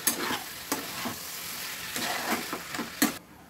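Fried pointed gourd pieces are dropped into a simmering curry with water, bringing brisk bubbling sizzle and repeated spoon scrapes in quick rhythm over a few seconds before the sound cuts off.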